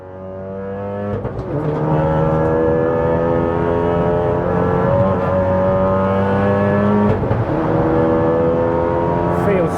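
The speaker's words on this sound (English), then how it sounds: "get the car warmed up, and go for some somewhat wet laps here at Castle Combe with the Golf R back in action" A Volkswagen MK7 Golf R track car laps the wet Castle Combe circuit, its engine droning loud and steady from inside the cabin with rising and falling revs through gear changes.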